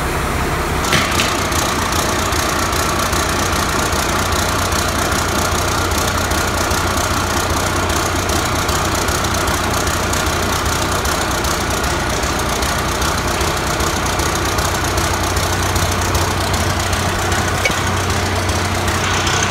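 A 1993 Ford Louisville truck, abandoned and unstarted for 13 years, runs at a steady idle up close, a loud continuous mechanical drone with a rattling, knocking edge and no talking.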